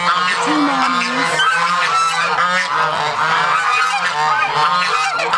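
Loud, continuous honking from a flock of geese close by, calls overlapping in a steady noisy chorus.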